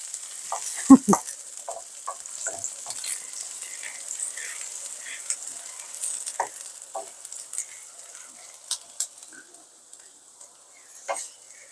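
Onions lightly frying in a pan for an okra and mustard dish give off a faint, thin sizzle broken by sporadic crackles and small stirring clicks, close and quiet.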